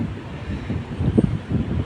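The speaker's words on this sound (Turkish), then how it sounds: "Bu ne bu rüzgar böyle bu kadar akar." Gusty wind rumbles against the microphone, a low continuous roar that swells and surges in irregular bursts.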